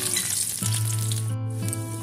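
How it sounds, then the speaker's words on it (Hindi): Chopped onion drops into hot oil in a kadai and sets off a loud, close, continuous frying sizzle that holds over a steady hum, with no talking. "तेलटा गरम हो गेछे तो तेलेर मध्ये दिए देब आमि प्याज कुचि।"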